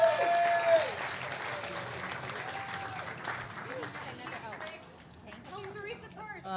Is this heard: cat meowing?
no